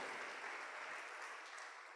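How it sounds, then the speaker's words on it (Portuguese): A church congregation breaks into loud, sustained applause, a dense steady clapping that fills the whole stretch without pause and carries no speech over it. "Você pode dar um aplauso ao Senhor por isso?"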